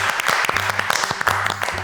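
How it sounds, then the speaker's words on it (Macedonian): Studio audience clapping loudly and continuously for two people at a cooking competition show, dense and close throughout. "Голем аплауз за двајцата"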